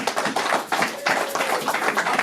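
A church congregation applauds in a brief, dense patter of many hands clapping at once, steady and fairly close, with no talking over it.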